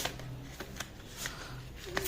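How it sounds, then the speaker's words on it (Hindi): A card is drawn from a deck with a few soft, brief rustles and slides, quiet and close. "चलो हम एक कार्ड निकालते हैं यहाँ पे।"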